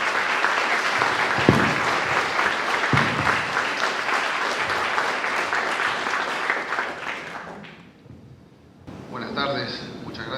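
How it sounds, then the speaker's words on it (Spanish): A lecture audience applauds to welcome two speakers with loud, sustained clapping. It fades and breaks off near the end, and a voice begins to speak. "Les pido que por favor recibamos a Lorena y a Diego con un muy fuerte aplauso."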